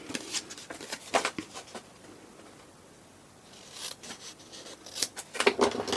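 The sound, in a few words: scissors cutting paper along score lines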